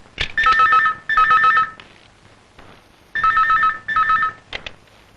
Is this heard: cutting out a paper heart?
no